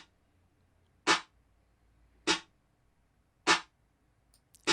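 Four short, sharp percussive hits spaced about a second apart, each with a brief tight reverb of only early reflections and quick decay into near silence.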